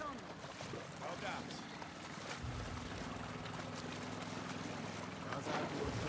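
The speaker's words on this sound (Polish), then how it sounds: "Udało mi się włączyć silnik." A boat engine in The Last of Us 2 video game: a low, steady motor rumble that kicks in a couple of seconds in and continues under other in-game sounds.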